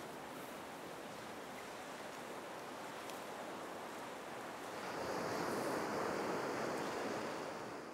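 Surf rolls steadily onto a seashore, a continuous broadband wash that swells louder midway as a larger wave breaks nearby, with some wind noise and no voices.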